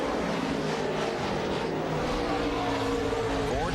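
NASCAR Cup race cars roar around the Sonoma road course, a continuous loud engine drone with shifting pitch as cars pass, steady throughout with no clear gaps.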